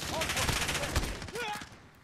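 Rapid gunshots crackle in Call of Duty Modern Warfare multiplayer, a dense burst of fire through the first second or so that thins and fades, mixed with faint in-game voice chatter.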